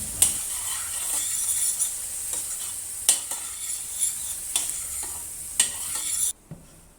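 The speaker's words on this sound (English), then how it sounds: "Continue to stir and cook for 2 to 3 minutes." Tomatoes and cashews sizzle steadily in a frying pan while a utensil stirs and scrapes at intervals, with a few sharp clinks against the metal.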